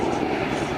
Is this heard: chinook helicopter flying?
yes